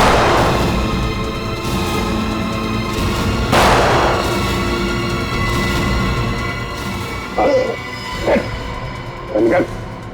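Gunshots ring out in a Hindi TV crime drama: two sharp blasts a few seconds apart, then three quicker, lighter cracks near the end, all over a sustained background music bed.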